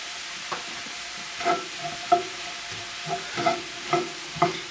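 Chopped garlic stirred into softened onions in a pan for a bison bolognese, heard as a series of distinct spoon scrapes and pushes at uneven intervals over a low sizzle, close and clear with no talking.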